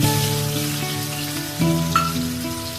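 Ground paste of two onions frying in a kadai with a tablespoon of oil and a spoon of ghee gives a steady, close sizzle throughout, with a faint tonal hum underneath and a couple of brief louder bumps near the end.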